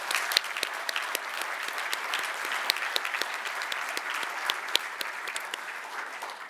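Sustained applause from a commencement ceremony audience honoring two outstanding students, a dense wash of many hands clapping steadily at moderate level throughout, with a few sharper claps standing out.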